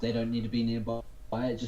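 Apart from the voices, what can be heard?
None of the usual background noises is heard.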